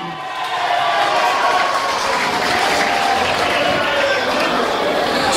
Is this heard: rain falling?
no